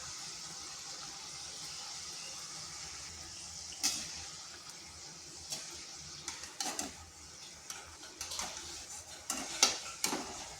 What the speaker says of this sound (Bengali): এইভাবে নেড়ে চেড়ে এগুলোকে ভেজে নিচ্ছি।